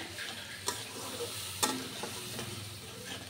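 A spice paste of dry chillies, cumin and ginger fries with onions in a wok for a prawn curry, giving a soft continuous sizzle under a couple of sharp spatula taps, near and fairly quiet.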